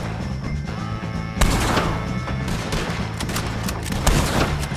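Gunfire erupts during a shootout with O'Driscoll gang members in Red Dead Redemption 2, a burst of loud, close shots and cracks over a steady background score, with no talk.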